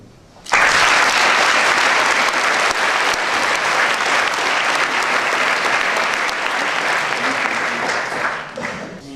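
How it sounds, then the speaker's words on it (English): A burst of audience applause for a presenting group at a design program ceremony starts abruptly and stays loud and dense for several seconds, then thins toward the end. "another applause for this group of people"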